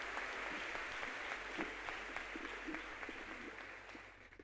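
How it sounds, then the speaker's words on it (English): An audience at a 2019 Oxford College of Emory commencement ceremony claps for the university president, a broad wash of many hands heard from a distance that gradually fades toward the end. "now let's clap for President Claire Stirk of Emory University"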